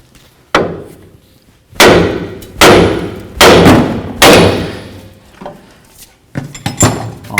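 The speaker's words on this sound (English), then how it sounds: "Hit this with your hammer." A hammer lands five heavy metallic strikes on a front upper control arm part of a 2003-2009 Toyota 4Runner, about a second apart, each ringing briefly, followed by a few lighter knocks and clatter.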